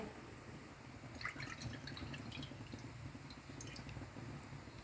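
Water and condensed milk pour steadily into a pan for making kesari, a soft continuous trickle with a few brighter splashes and drips, quiet and close.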